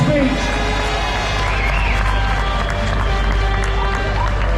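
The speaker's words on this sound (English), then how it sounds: "Let's have an absolutely massive round of applause for Tao." A large audience breaks into loud, sustained applause and cheering at a London speaking event, a dense continuous wash of clapping and voices that holds steady throughout.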